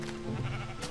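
A single sheep bleating in the Minecraft video game, one short wavering call at moderate level, alone.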